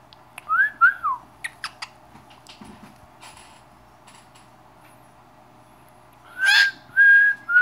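A pet bird whistles indoors, giving a few bright rising and falling whistled notes and short chirps near the start, a quiet stretch, then two longer, louder whistles near the end.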